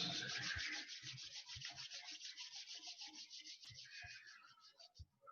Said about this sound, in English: Slowly rub your hands,